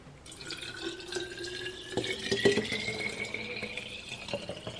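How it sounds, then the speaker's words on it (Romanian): Water pours into a lemonade bottle with fresh mint inside, making a close, steady trickling and gurgling fill that rises slightly in pitch over a few seconds, with no voices. "O să punem apa."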